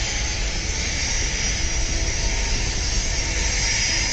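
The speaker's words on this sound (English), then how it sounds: "Now watch the moment a pilot narrowly avoids crashing into a jet during landing." A jet plane landing on a runway, a steady, loud, broadband engine roar and rushing noise that holds evenly throughout with no voices.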